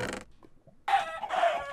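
A short burst of Minecraft chicken clucking after a brief quiet gap, close and fairly loud, with a synthetic game-like quality.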